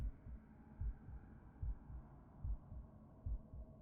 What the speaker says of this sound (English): A strong heartbeat is an indicator that my sanity is really...